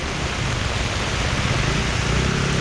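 Rain falls steadily on a street in Seoul, a loud, even hiss of droplets with a low traffic-like rumble beneath, no voices present.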